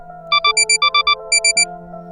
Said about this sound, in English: the REM pods spread around the room screaming their alarms